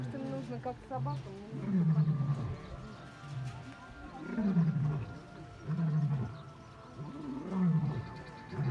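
Several lions in a zoo enclosure trade deep, rhythmic grunting roars during morning feeding, repeated pulses rising and falling in bouts, fairly close and clear over faint outdoor ambience.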